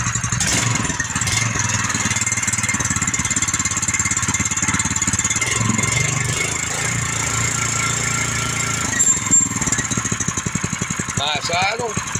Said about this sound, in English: we are running in the shop on propane